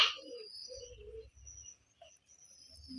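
Pigeons on a pigeon farm coo low and soft in short repeated phrases, with thin chirps and squeaks from other birds nearby, heard fairly close in a quiet setting.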